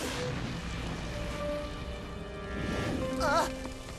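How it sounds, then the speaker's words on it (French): Heavy rain pours down in a constant hiss, with a brief warbling, shimmering tone rising near the end. "Roi des mers, que la pluie se déverse!"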